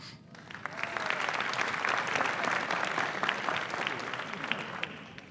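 An audience applauds an honoree at a senior awards ceremony, a moderately loud, steady round of clapping that swells in and holds for several seconds.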